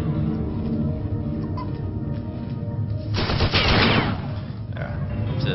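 A turret in System Shock 2 opens up with a rapid burst of gunfire that rattles out over steady game ambience and then fades.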